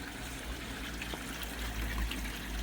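Water trickling and splashing from an aquarium filter's shower outlet fed by a pump and heater, a soft, continuous patter of falling droplets heard up close and alone.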